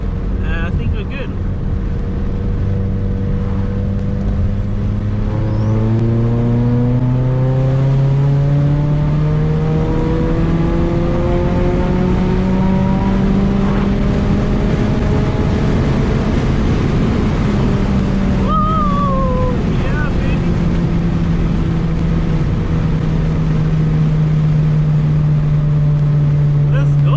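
A Ford Mustang EcoBoost accelerates through its gears, the engine tone climbing steadily in several rising sweeps toward about 3000 RPM over a constant roar of road and wind noise from inside the car.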